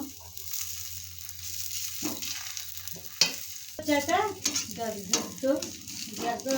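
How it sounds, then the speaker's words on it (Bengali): Chhena paratha frying in oil on a hot tawa, a soft steady sizzle with scraping and handling clicks, rising in bursts toward the end. "এখন একটা আমি একটু তাওয়ার মধ্যে ভেজে নিব আমার গরম হয়ে গেছে প্রথমে একটু তেল দিয়ে নিলাম এরকম করে ভেজে নিব"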